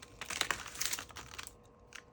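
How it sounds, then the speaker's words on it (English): A plastic package bag from an online order is torn open by hand, giving a quiet burst of crinkling and ripping over about a second and a half before it fades away. "Rip the bag."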